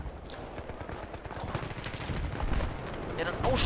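Gunfire in Battlefield 3 rattles in rapid bursts of shots, building louder toward the end amid battle noise.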